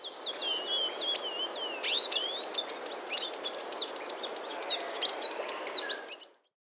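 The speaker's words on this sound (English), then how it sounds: "Palm tanager." A palm tanager calls with a rapid series of high, sharp chirps and twittering notes, building into a dense, close and loud sequence of repeated phrases before stopping abruptly.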